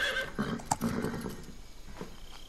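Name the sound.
horse neighing in Metal Gear Solid 3 video game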